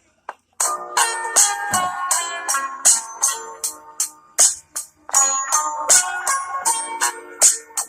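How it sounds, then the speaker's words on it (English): A melodic electronic phone ringtone plays a repeating bright, chiming tune at close range, steady and fairly loud, with no talking. "That's my ringtone."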